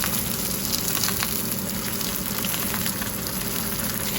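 A fluke fillet fries in a pan with a steady, loud, dense sizzle and crackle that runs evenly throughout, with no voices.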